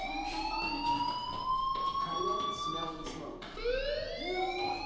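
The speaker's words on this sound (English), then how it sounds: "Hey, do you hear that fire alarm?" Fire alarm in the game Life Is Strange, a rising and falling wailing siren tone that sweeps repeatedly, with a voice speaking underneath.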